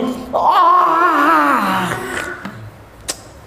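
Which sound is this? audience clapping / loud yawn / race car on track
loud yawn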